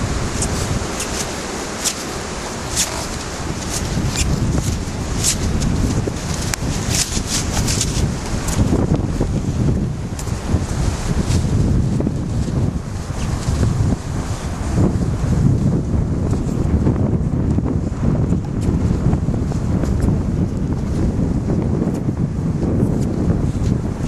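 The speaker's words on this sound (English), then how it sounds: "the wind's kicking up pretty good, so it's going to be hard to hear" Strong outdoor wind buffets the microphone continuously, a loud, rough, gusting roar lasting throughout with no clear voices.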